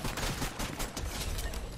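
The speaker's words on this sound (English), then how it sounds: "I just killed a duo with a pistol" Pistol fire in the Fortnite video game, a quick string of sharp repeated shots packed closely together, loud and close, filling the short moment without talk.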